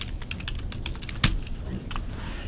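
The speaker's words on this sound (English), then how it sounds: "Let's just start typing owner" Typing on a computer keyboard while entering a field name in a Microsoft Access database, with quick, uneven clusters of soft key clicks, close and moderately quiet, plus one slightly louder keystroke midway.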